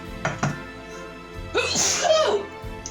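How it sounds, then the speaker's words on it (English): A single loud sneeze bursts out, preceded by a couple of sharp sniffs or breaths, close to the listener. "Sneezing in the other direction, away from my food."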